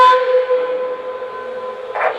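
Short whistle blast from a 0-4-0 model locomotive, a steady loud tonal hoot held for about two seconds with a brief brighter swell at the close.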